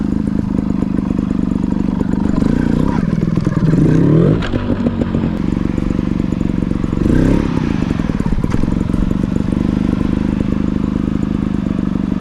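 A Gas Gas 300 trail motorcycle engine revs up and down repeatedly, loud and close, with clattering between the throttle bursts.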